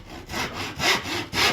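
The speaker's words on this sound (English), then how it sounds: "So we start with 2 strips of ash, which we cut to size." Strips of ash wood being sawn to size with a hand saw, rhythmic back-and-forth strokes in a steady pulse of about four passes, close and moderately loud with no talking.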